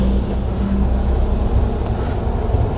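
A car with a manual transmission revs steadily under throttle during a driving lesson, a continuous low engine drone close by with no clear gear change.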